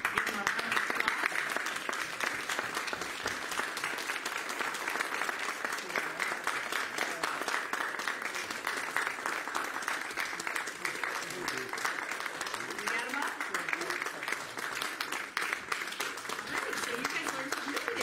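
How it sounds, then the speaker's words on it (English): Sustained applause for veterans at a church service, steady dense clapping from a large congregation lasting throughout, fairly even in loudness with no break. "we'll give them a round of applause"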